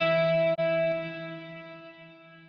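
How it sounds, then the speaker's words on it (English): A sustained, bright synth-like tone drenched in a bright Softube reverb with about 5 seconds of decay, its shimmering harmonics ringing on and slowly fading away after a brief dropout. "This is a very cool, very bright reverb from Softtube."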